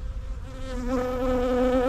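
Italian Cordovan honey bees after wintering swarm around their hive in a dense, steady, close buzz that swells slightly louder partway through, with no voices.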